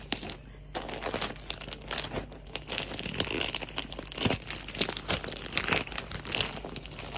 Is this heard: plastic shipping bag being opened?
yes